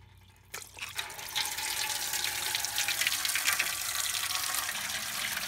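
Coolant draining from the water pump of a first-generation Acura Legend 2.7L V6 into a shallow pan, a sudden gush after a quiet start that settles into a steady, close splashing pour.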